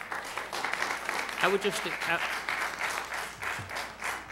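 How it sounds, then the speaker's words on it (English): Audience applause and clapping fill a city council meeting, steady across the room, with a brief spoken phrase and some murmuring over the top. "just ask the public to please hold your applause"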